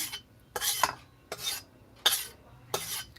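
Cooked wheat-flour barfi mixture scraped out of one wok into another: four evenly spaced, rasping scrape strokes, close and fairly quiet, with short pauses between them.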